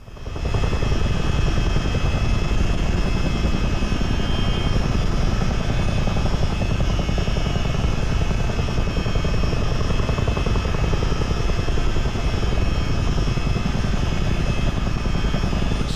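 A US Army Chinook helicopter flying in Microsoft Flight Simulator, a loud continuous rotor and engine drone with a steady low thrum that holds evenly from start to finish.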